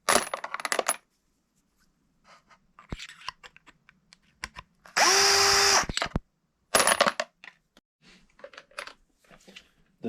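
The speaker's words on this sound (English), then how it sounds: "The next step is going to be deburring the flash hole." Flash hole of a 6.5 PRC rifle cartridge case being deburred with a tool: scattered metallic clicks and taps, a brief rattle at the start, and a short loud whirring burst in the middle, followed by more clicking.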